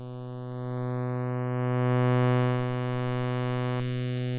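An AM 1047 synthesizer filter module on a buzzy harmonic tone while its resonance is swept, a single whistling resonant peak gliding steadily upward over the sustained drone, fairly quiet and with no talking.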